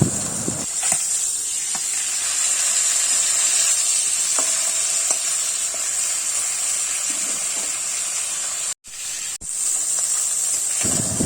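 Hilsa fish sizzles and hisses in hot oil with a constant bright crackle, broken by a brief pause near the end.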